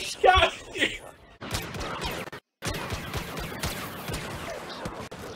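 Blaster gunfire from the video game Star Wars Battlefront crackles in quick bursts of shots, near and busy, with excited voices talking over it and a brief dropout midway.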